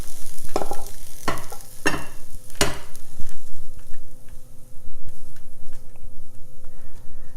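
Kale with onion and garlic sautéing in a pan gives a continuous loud sizzle, broken early on by several sharp scraping stirs of a utensil, followed by a steadier frying crackle with light ticks.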